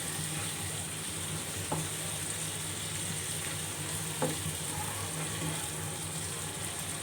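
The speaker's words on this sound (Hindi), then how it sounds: "आप देख सकते हैं कितनी ज़बरदस्त तरीके से जो है वो टमाटर की भुनाई हो रही है।" Tomatoes fry in a pan for a yellow moong dal, a constant loud sizzle with a low hum beneath and a couple of sharp spoon knocks against the pan.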